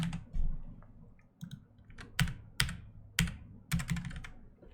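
Close, crisp keystrokes on a computer keyboard come in short irregular bursts of clicks with brief pauses between them.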